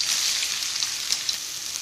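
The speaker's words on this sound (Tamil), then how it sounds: "இதில் வந்து 2 மீடியம் சைஸ் பெரிய வெங்காயம் பொடியாக நறுக்கினதை ஆட் பண்ணிக்கலாம்." Two medium chopped onions frying in hot coconut oil in a pan, a steady, dense hiss and crackle that holds at an even level throughout, close and with no talking.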